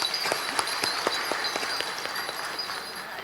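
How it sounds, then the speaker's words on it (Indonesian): Graduation ceremony audience clapping at a university convocation, a moderate scatter of distinct claps with some sharper individual hands standing out, holding steady and then thinning slightly. "Tepuk tangan untuk semuanya."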